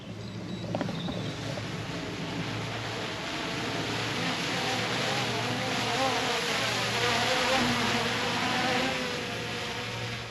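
A camera drone descends to land over a freshly mown silage field in Cheshire during first-cut harvest, its steady insect-like buzz continuous and fairly loud against outdoor ambience.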